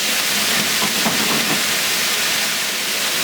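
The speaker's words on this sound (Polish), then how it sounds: "To chwilkę musi się podsmażyć." Chicken and vegetables fry in a pan for a chili-sauce dish, giving a steady, dense sizzling hiss that carries through the whole stretch without any talking.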